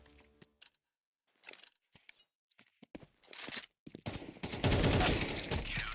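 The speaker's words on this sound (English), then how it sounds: "A sharp shot clears him off the ramp, putting Mist just a single round away from victory." Gunfire during a competitive video game match, heard as several sharp, separate shots early on, followed by a louder, denser burst of rapid firing that continues to the end.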